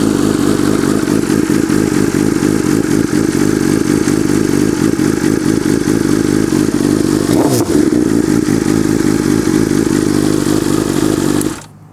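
A 2020 BMW S1000RR sport bike with GP shift runs loudly up close, a dense sustained engine roar with clattering mechanical texture and a brief rev swell near the end before it cuts off abruptly.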